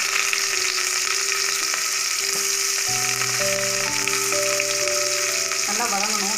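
Onions and dried chillies sizzle and fry in hot oil for a tomato chutney, a steady close crackle with faint tonal background music running throughout.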